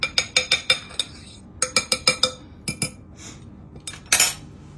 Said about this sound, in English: So I'm just gonna mix this up a little bit so I can get everything mixed together.